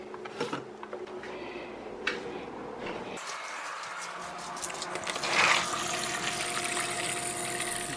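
Water running from a tap while filling containers for animals, starting with faint clanks and handling noises before a steady, close rush of flowing water takes over.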